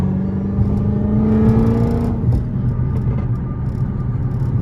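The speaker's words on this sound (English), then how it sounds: "Yeah, she does burble," A Dodge Charger SRT Hellcat engine burbles while driving, a loud, close, low rumble with a brief rising rev that then settles back into a deep steady idle-like burble.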